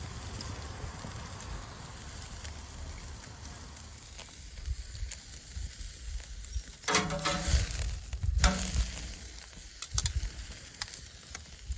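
An oyster steak (beef) sizzles on a grill with a soft, steady crackle and hiss, broken by a few louder bursts of spattering sizzle.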